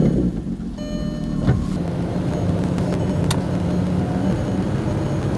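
A car engine just started and left warming up during cooling-system work, a steady mid-level idle rumble running the whole time, with faint clicks and a brief sharp tick near the middle and no talking.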